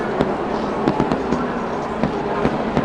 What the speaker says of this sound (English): Fireworks in the air are the least of it.